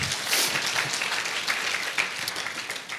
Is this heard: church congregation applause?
yes